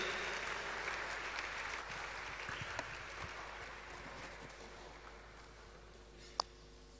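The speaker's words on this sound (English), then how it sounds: "Please help her with her clap before she gets here." An audience at a Springboard 2019 event in Kumasi applauds continuously, a fairly quiet, even wash of many hands clapping that slowly fades, with one sharp tap near the end.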